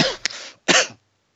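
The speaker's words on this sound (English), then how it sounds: "making me cough" Two short harsh coughs from a man on a podcast, close to the microphone, a brief sharp burst and then a fuller second cough, followed by silence.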